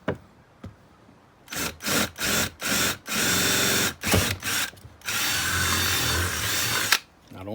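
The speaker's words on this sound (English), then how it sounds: "Now don't drill all the way through there." A power drill bores into PVC pipe while making a fishing rod holder, with several short bursts of whining motor and cutting, then a longer sustained run before stopping.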